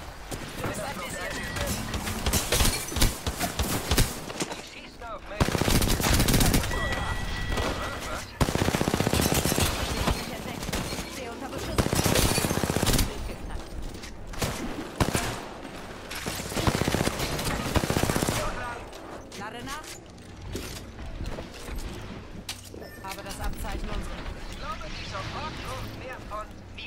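Repeated machine-gun bursts and rapid gunfire in the Apex Legends video game, loud and close in dense volleys, with a voice talking over parts of the action.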